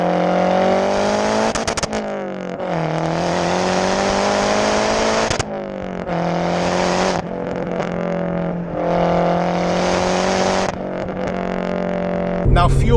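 A loud, tuned 400 BHP Mazda 3 MPS Aero edition accelerates hard through repeated gear pulls, its engine note rising, cutting off and climbing again, close and dominant from start to finish.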